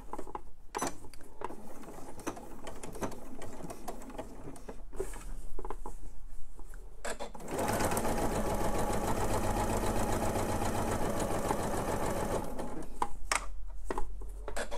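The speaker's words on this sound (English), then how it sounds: "and now I'm just going to top stitch the other side" Sewing machine top stitching a seam on a purse lining, with light handling at first, then a sustained run of rapid stitching in the middle before it slows to brief bursts.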